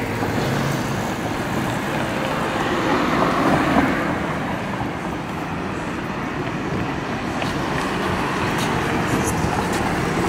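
Cars travel along a roadside curve in Jocotenango, Guatemala at moderate speed, heard as a steady, continuous wash of traffic noise with a broad rumble that swells slightly midway, with no talking.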